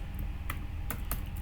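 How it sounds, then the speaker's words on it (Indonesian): Keystrokes on a computer keyboard during a Linux shell scripting demo, a few distinct clicks spaced out over a steady low background hum, fairly quiet and close. "ketik manual aja"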